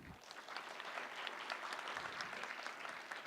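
A graduation hooding ceremony audience gives a round of applause for absent graduating students, soft, distant continuous clapping at low volume.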